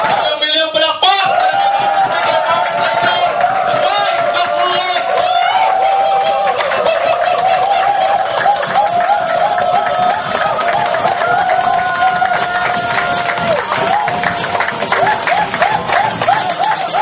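A large audience at an Aim Global training seminar breaks into loud, sustained applause with cheering and shouting, a dense roar of clapping that fills the room for the whole stretch, close and energetic.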